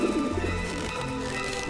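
Pigeons in the video game Grim Fandango give a brief soft coo over a continuous low ambient hum, short and moderately quiet.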